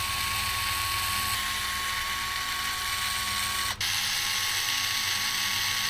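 Ratchet tool clicking steadily while removing the four bottom chassis screws from a Team Associated DC10 RC car, a continuous close mechanical whir with a brief pause near the end.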